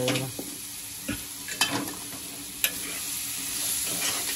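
Chicken breast mixture with cabbage being stirred in a frying pan, a spoon scraping and knocking in several distinct strokes over a steady close sizzle, with no one talking.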